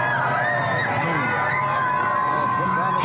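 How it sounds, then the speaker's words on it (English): A street crowd cheers for Donald Trump, a dense babble of shouting and raised voices with whoops rising and falling over a steady crowd murmur. "People out in the streets cheering for Donald Trump."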